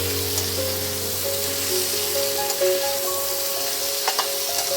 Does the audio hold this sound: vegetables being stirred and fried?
yes